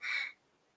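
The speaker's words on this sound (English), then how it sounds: "Crows are here. They're looking for some food." A single crow caws once, close and fairly loud, then only quiet background remains, during an outdoor live recording.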